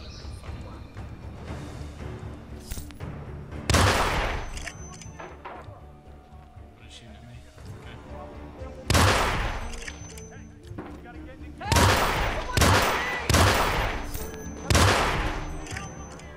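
Pistol gunfire in the video game Hitman Beta, sharp loud shots in separate bursts, some single and some in quick clusters, while someone talks over the action between them.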